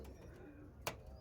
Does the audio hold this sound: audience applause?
no